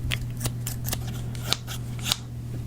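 Big orange scissors snipping in a quiet close-up setting, a series of crisp, separate cuts in an irregular rhythm over a steady low hum, with no voices.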